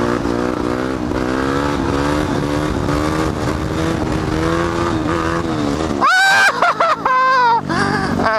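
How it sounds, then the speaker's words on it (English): Motorcycle engine droning steadily, then revving hard in sharp, loud bursts during wheelies at a graffiti-covered abandoned school location, close to the rider. "You want wheelies? You got wheelies."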